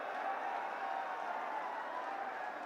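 Rally crowd welcoming Rahul Gandhi with sustained applause, a faint, even roar of distant clapping and crowd noise that holds steady throughout.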